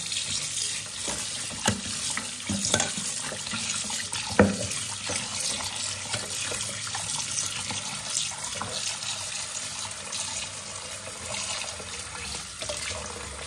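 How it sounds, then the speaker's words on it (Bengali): Mutton is washed under a running tap in a sink in a simple home kitchen, water pouring steadily with splashes and handling knocks, near and moderately loud, with no talk. "চলো মাটনটাকে ধুয়ে নি।"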